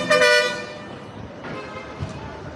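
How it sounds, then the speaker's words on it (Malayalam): A bus horn on a trip to the Tirupati temple area blares in a strong, harmonic honk for about half a second at the start, then fades into quieter outdoor background with faint voices. "അപ്പോഴേ ഡ്രൈവർ ഹോൺ അടിച്ച് നമ്മളെ വിളിച്ചിരിക്കുവാണ്"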